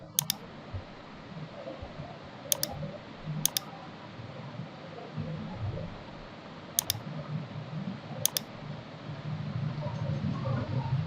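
Computer mouse clicks during screen-recording software work come as sharp, isolated single and double clicks spread through the stretch, close to the microphone over a faint room hum.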